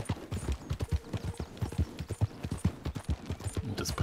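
Horse galloping in the video game Red Dead Redemption 2, rapid rhythmic hoofbeats pounding steadily and close throughout.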